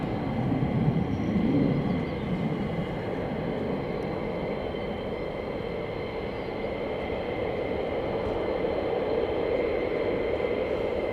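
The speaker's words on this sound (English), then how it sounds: "single afterburner on the F-35 is intense" An F-35 fighter jet on a single afterburner gives a loud, sustained, rumbling broadband roar with steady tonal bands and a slight swell early on, heard alone without voices.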